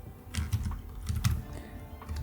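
Keystrokes on a computer keyboard while entering names into a spreadsheet, a quick run of soft, close clicks in short bursts, with no voices.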